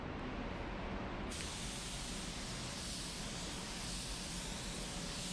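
A spray gun lays tinted clear coat on a 1966 Chevy Nova, a steady close hiss that starts abruptly and holds at an even level, with no talking.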